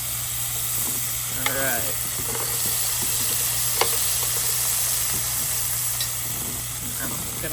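Small shrimp sizzle steadily in a hot pan for tequila lime shrimp, a constant broadband frying hiss with a low hum beneath and occasional light utensil clinks, while a voice speaks briefly.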